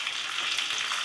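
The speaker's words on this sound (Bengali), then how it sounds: "আমি একটু মাছ রান্না করছি" Fish frying in a pan in a home kitchen gives a steady, close, dense sizzle and crackle that holds at an even level throughout, with no talking.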